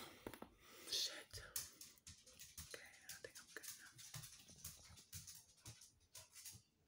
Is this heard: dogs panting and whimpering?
yes